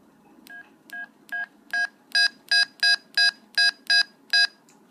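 Flip phone keypad beeping at full volume, a dozen crisp dual-tone key presses in a steady rhythm, growing louder after the first few, close and alone with no talk.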